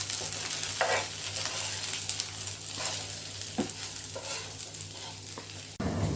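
Seer fish (vanjaram) frying in oil in a pan, a steady close sizzle with occasional scrapes and clinks from stirring, then a short bump near the end.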